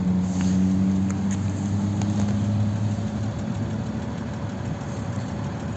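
A 2015 Mercedes-Benz S 350 (W222) 3.0 V6 diesel idles with a steady, low rumble that runs on without a break, even and moderately loud throughout.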